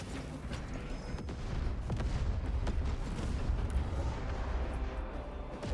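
A detonated charge going off in Space Marine 2, a sustained rumbling blast with booming low-end roar and crackling debris that swells and holds loud before easing slightly.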